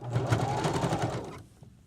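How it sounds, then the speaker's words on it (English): A sewing machine back-stitching on a pillowcase, a fast, loud rhythmic stitching whir up close that stops abruptly after about a second and a half. "we're going to end with a back stitch again"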